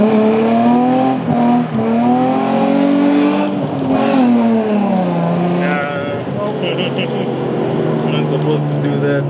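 A Nissan 350Z accelerates hard along a road, its loud, close engine note rising and falling through revs, with a voice talking over it.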